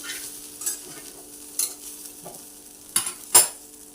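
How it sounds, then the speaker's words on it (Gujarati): Vati dal khaman being stirred and roasted in a pan over low heat, with a few scattered scraping clicks and soft light sizzling, quiet overall with no talk. "એને આની અંદર જ શેકી લેવાના છે સરખી રીતે મિક્સ કરી દઈશું"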